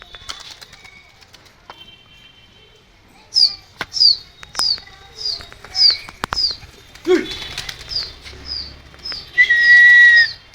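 Pigeons kept by a rooftop fancier, with sharp flaps of wings and several high chirping whistle calls repeating in bursts over quiet background, growing louder toward the end.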